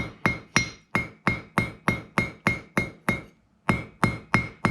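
Hammering a troy ounce silver bracelet, a regular series of about fourteen sharp ringing metallic blows close up, with one short pause partway, and no voices.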